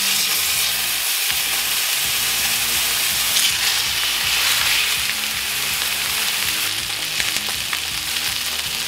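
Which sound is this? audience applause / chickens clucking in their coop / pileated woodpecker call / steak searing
steak searing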